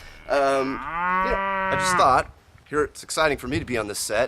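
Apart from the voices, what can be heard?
cows mooing in the background on a farm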